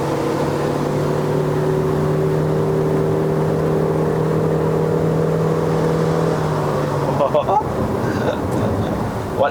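A 2019 Proton Exora climbs an uphill road with the throttle pressed, its engine droning steadily under wind and road rush, the pitch holding then dropping near the end as a voice briefly talks over it.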